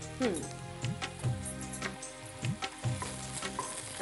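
Onions frying with ginger-garlic paste in a home kitchen pan, sizzling with scraping stirs, heard beneath people talking.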